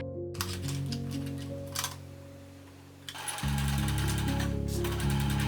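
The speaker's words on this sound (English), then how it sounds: "If your pleats are well formed, go ahead and sew." Sewing machine stitching pleated fabric for a hanbok skirt, a steady mechanical whir with rapid needle chatter, close up, running continuously and growing louder and denser partway through, with no voices.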